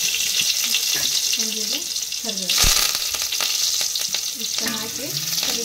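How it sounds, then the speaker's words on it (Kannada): Mustard seeds and cumin sizzle and crackle in hot oil for a North Karnataka festive tempering, a steady close frying hiss with scattered pops and a clink of stirring. A voice talks briefly in the background. "ಒಗ್ಗರಣೆ ಹಾಕ್ಬೇಕು ಅಂದ್ರೆ ಸಾಸಿವೆ ಜೀರಿಗೆ ಅವನ್ನೆಲ್ಲ ತೊಗೊಂಡೆ ಒಗ್ಗರಣೆ ಹಾಕ್ಬೇಕು"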